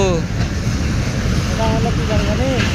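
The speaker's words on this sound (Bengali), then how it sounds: "আর দেখেন চলে আসলো ট্রেন" Titumir Express train arriving at a station, a steady rumble of rail wagons with faint whistle-like tones, heard under ongoing nearby talk.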